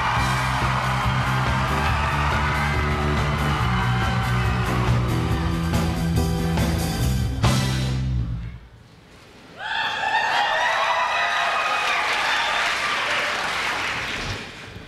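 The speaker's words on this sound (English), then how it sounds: "let's have a big round of applause" A large crowd applauds and cheers loudly with whoops, then the noise drops briefly before a second burst of clapping and shouting.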